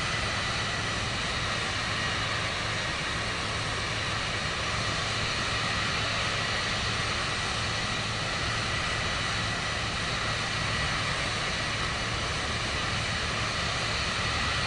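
An airplane engine in Microsoft Flight Simulator 2024 drones steadily while the aircraft taxis on the ground, a constant even whine and rumble with no letup.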